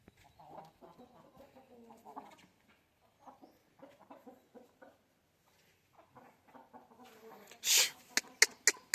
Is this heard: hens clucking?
yes